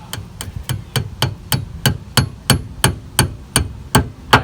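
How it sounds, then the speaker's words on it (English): A small hammer strikes metal about thirteen times in a steady, even rhythm, each hit sharp and close with a brief ring. "Here's a little hammer if you want the little one."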